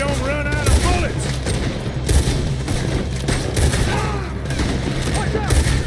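Rapid gunfire in the open-world Western video game Red Dead Redemption 2, a dense, loud fusillade of repeated shots and booms that runs throughout, with shouting voices over it.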